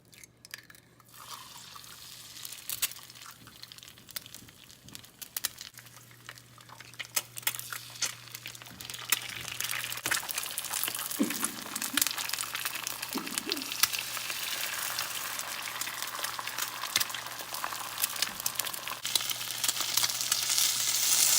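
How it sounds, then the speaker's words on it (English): An egg frying in oil in a pan over medium heat: the sizzle starts quietly and builds to a loud, steady crackle, with a couple of brief clinks from the pan along the way and no talking. "you're gonna fry an egg to go with it, right?"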